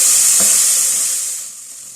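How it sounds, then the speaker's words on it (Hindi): Steady bright sizzling of chopped onion sautéing in hot oil, loud and close, with a brief clatter early on before the hiss slowly eases. "ये प्याज इसमें डाल देंगे। प्याज को इसमें सौटे कर लेते हैं।"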